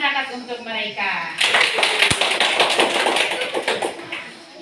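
A classroom audience breaks into brisk, dense clapping for students after a voice speaks; the applause is close and steady for several seconds, fading slightly at the end.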